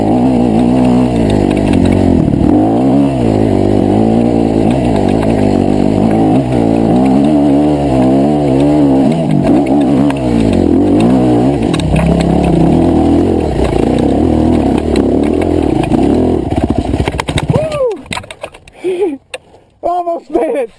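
Motorcycle on a test run, engine loud and close, revving up and down continuously for most of the stretch before cutting to scattered clatter and rustling near the end.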